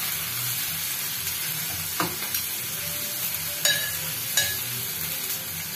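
Something frying in a pan on the stove while it is stirred: a steady, soft sizzle throughout, broken by a few brief scraping knocks of the spoon against the pan.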